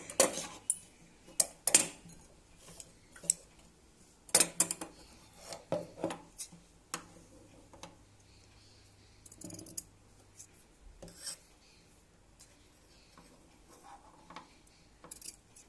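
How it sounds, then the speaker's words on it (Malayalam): Scissors cutting through cotton cloth while making a homemade reusable face mask, giving a series of sharp, close snips and rustles in irregular bursts with quieter pauses between, no talking. "ബാക്കിയുള്ള ഭാഗം മുറിച്ച് മാറ്റാം."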